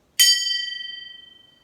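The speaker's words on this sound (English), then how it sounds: "The gongs you can hear is a gong that my wife has bought for me." A single struck dinner gong rings out clearly and close, a bright metallic strike followed by a long, pulsing shimmer that slowly fades away, heard alone.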